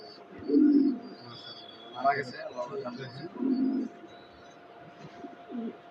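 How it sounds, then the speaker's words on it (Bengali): Low, soft coos from pigeons, including a male, repeat a few times nearby while a person talks over them. "এই যে একটা নর কবুতর এটাও আমার মেইন কবুতর"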